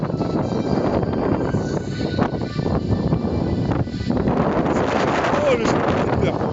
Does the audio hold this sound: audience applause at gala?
no